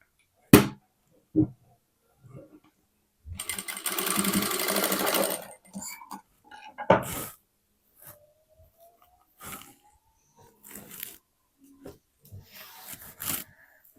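A sewing machine stitches a blouse sleeve for a 36-inch katori blouse, one loud burst of rapid stitching lasting about two seconds, surrounded by quiet, scattered fabric handling and taps.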